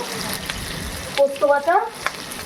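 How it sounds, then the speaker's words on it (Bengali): Onion pieces frying lightly in a pan give a steady close sizzle, broken midway by a few brief squeaky scrapes of stirring, with no one talking. "এই রান্নার ক্ষেত্রে পেঁয়াজটা একটু হালকা ভাজায় রাখতে হবে"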